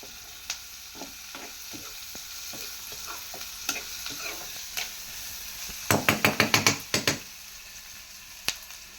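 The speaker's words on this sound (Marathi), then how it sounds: "बाकीचे जे आपण भाज्या घेतल्या होत्या म्हणजेच तो भेंडा आणि गवार ती आपण मिक्स करून घेणार आहोत" Okra and cluster beans are stirred in a hot pan over a low, steady sizzle. Spaced spatula taps lead into a quick, rhythmic burst of louder scraping and clacking, then a few more taps.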